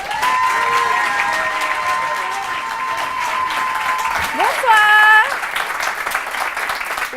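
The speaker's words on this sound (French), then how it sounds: "Et on vous demande d'applaudir pour la première fois à Candidator, Mademoiselle Aurore." A television talent-show audience applauds and cheers as a contestant is introduced, a continuous wash of clapping with crowd noise and a brief rising whistle-like tone partway through.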